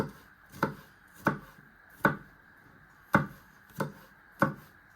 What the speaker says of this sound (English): you want to chop it into little pieces